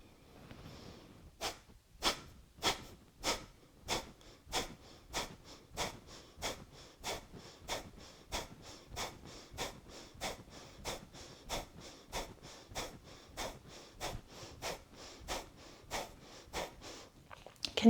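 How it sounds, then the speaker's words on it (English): Rhythmic forceful nasal breathing during a Kundalini root chakra kriya practice, a steady series of sharp close exhales at about one per second, repeating throughout without speech. "continue with the long deep breathing"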